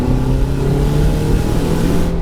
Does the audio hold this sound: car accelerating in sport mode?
yes